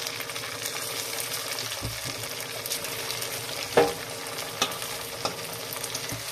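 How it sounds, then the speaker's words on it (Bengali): Lentil fritters sizzling steadily in hot oil, a close, continuous frying crackle with a few sharper pops and clinks, heard alone without talk. "তো এবার ওই তেলের মধ্যেই আবার এগুলোকে ছেড়ে দেবো।"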